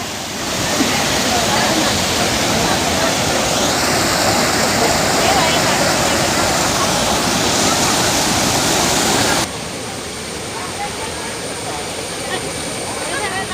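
Aruvikuzhi waterfall in Kottayam, Kerala, running low on water: a loud, continuous roar of falling water up close, steady throughout with a slight drop in level near the end.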